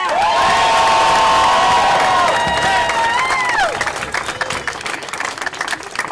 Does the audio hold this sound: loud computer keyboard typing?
no